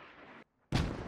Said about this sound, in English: Oh, those mortars.